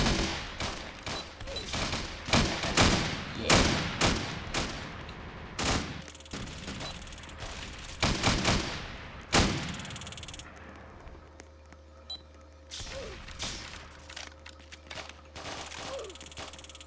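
Gunfire erupts in a Roblox prison riot game, with dense bursts of shots and rapid volleys crackling close and loud in clusters, broken by short lulls, then fading to scattered single shots before a final flurry.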